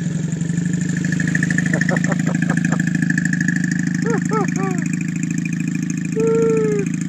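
A 1978 Honda Hawk CB400A Hondamatic motorcycle with a newly fitted exhaust runs steadily, its loud, low engine drone continuous throughout while voices talk over it.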